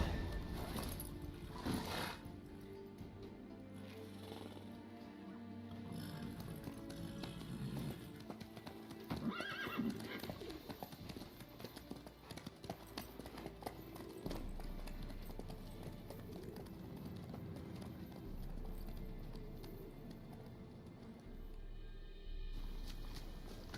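A horse in The Witcher 3 game clip-clops along with hooves and snorts, with a neigh near the middle, under a soft layer of ambient game music.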